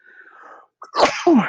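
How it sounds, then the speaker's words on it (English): A single close sneeze: a faint inhaled buildup, a short pause, then a sharp explosive burst with a trailing voiced tail. "Excuse me, I had to sneeze."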